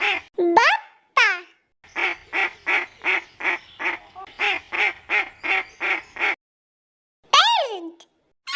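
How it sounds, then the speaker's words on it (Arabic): Duck quacking from a children's animal sounds collection: a long, steady series of short, evenly spaced nasal quacks, clear and close, bracketed by brief higher calls at the start and end. "بطة"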